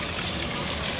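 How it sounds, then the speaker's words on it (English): Water from a waterfall in the rain rushes and gushes in a steady, dense wash of sound, moderately loud and continuous with no voices. "there's a sick ass looking waterfall"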